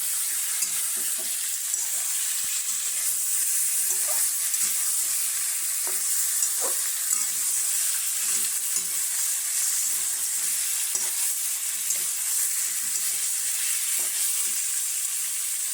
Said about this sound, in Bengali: চিকেনটা যখন কষাচ্ছি চিকেন বলো মটন বলো যতই কষানো হবে তত বেশি টেস্ট হবে